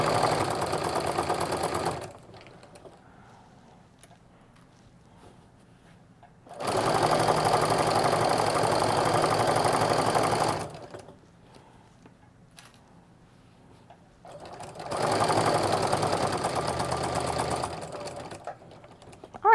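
A sewing machine stitching a quilt-as-you-go placemat with a lengthened stitch, running in three steady bursts of about four seconds each, separated by near-silent pauses with faint handling.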